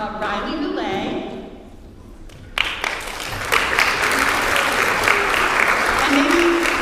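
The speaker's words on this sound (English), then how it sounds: "maybe let's hear the applause until the end" A school strings concert audience applauds students called up for medals: a voice speaks first, then loud, sustained clapping swells in and continues to the end.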